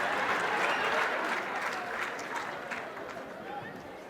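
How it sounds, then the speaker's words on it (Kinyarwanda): A comedy show audience breaks into applause, a broad wash of clapping that starts strong and slowly fades. Voices and crowd noise mix in underneath. "mufate ikomera amashyi"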